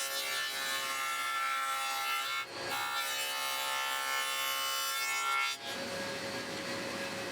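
A table saw cuts a 3/4-inch rabbet along the edges of wooden cabinet pieces for a kitchenette, a steady loud whine running close throughout with two brief dips as the pieces pass through.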